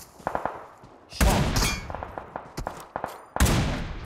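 Video game gunfire comes in sharp close shots, with single cracks and quick bursts spread irregularly, then two heavier blasts that ring out with metallic clangs.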